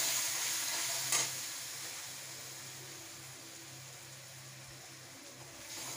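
Spiced fish for dudh koi, coated in chili-cumin paste, salt and turmeric, stirred in a frying pan, giving a steady broadband sizzle with one brief scrape near the start and soft, continuous frying throughout.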